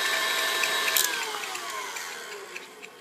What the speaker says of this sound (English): I am going to beat this on high speed for about 5 minutes